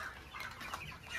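Broiler chickens clucking softly close by on a farm, a brief burst of short throaty calls with a little background hiss.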